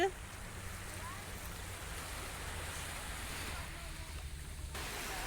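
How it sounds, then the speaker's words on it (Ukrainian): Sea waves washing onto a Greek shore, a steady broadband surf wash with wind noise on the microphone, continuous and moderately near through the whole stretch. "Таке в нас море."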